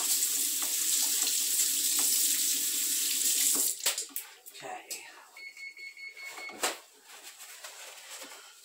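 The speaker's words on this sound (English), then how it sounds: "Let me rinse my hands and I'll be right with you." A kitchen faucet runs steadily while hands are rinsed under it, the close hiss of water lasting a few seconds before cutting off, followed by quieter handling sounds during a home cooking session.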